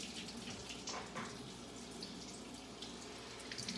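Hot water runs from a tap while a vinyl record is washed at a sink. A steady, fairly quiet rush of splashing water continues throughout, with no talking.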